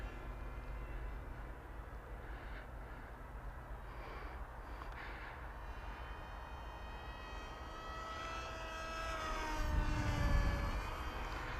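ZOHD Talon GT Rebel RC plane with its electric motor at half throttle, a steady high whine with rising tones over a constant wind rush, swelling louder near the end as the plane passes close.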